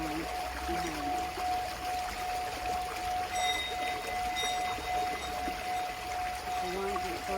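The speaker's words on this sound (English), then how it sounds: "Hear the water behind." Stream water flowing outdoors in nature, a steady rushing wash that continues throughout, with a sustained ringing sound bowl tone layered over it and a voice speaking softly at moments.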